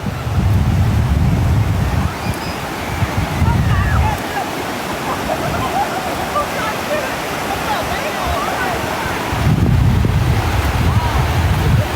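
Sea waves wash in at Chao Lao beach, a steady loud surf roar with heavier surges at the start and end, mixed with wind buffeting the microphone and voices talking over it.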